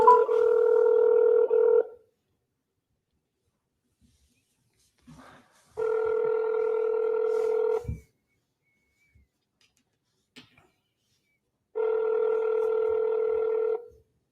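A telephone ringback tone on an outgoing call repeats three times, each steady two-second burst separated by about four seconds of silence, clear and close.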